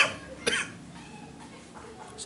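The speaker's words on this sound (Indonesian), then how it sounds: "Saya sampai batuk." A single sharp cough from a person close to the microphone, one burst near the start followed by quieter room sound and faint trailing breathy noise.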